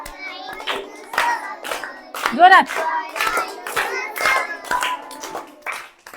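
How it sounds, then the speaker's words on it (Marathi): Children at a standard 4 class clap along in steady rhythmic bursts while singing and chanting the English poem "We'll all join in a circle", the claps mixed in with their voices. "आता वाजवा टाळ्या"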